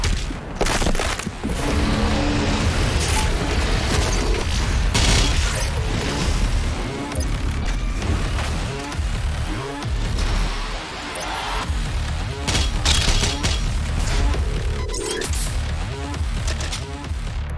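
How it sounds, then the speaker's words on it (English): Heavy blasts from the super shotgun in DOOM Eternal boom repeatedly through a loud, dense mix of explosions, impacts and game music, with the shots spaced irregularly across the action. "use a super shotgun"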